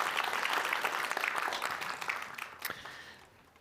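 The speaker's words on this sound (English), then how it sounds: "Let's give one more applause to Riikka." An audience at an event claps loudly together, a dense burst of applause that thins and fades toward the end, with a few isolated claps lingering.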